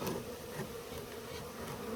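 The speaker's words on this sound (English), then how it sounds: "As you can see, the bees and stuff are lying around me. They're buzzing." Honeybees buzz steadily around an opened hive, a dense continuous hum of many insects close by and fairly loud, with no voices over it.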